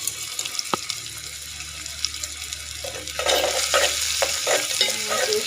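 Whole garam masala spices (cinnamon, black and green cardamom, cumin seeds, cloves) frying in hot oil for a duck curry, a steady close sizzle that swells louder midway with scraping stirs and clinks, no voices.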